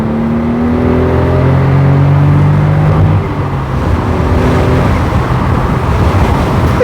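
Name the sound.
Smart Roadster W452 sports car engine accelerating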